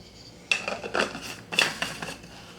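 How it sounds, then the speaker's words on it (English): Dried basil is tipped from a jar into a smoothie blender, giving a few close clinks and clatters of glass and container in two short bursts, with no talk. "So I've got the new dry basil in here and I'm going to add what I had already in this jar."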